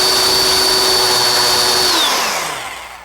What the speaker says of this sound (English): I like to drill one anyway just to be sure